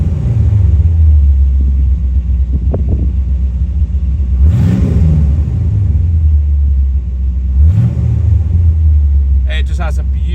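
A deep, rumbling V8 of a 1978 Chevrolet Corvette C3 Pace Car idles loudly up close, swelling into two gentle revs that rise and fall back to a steady burble.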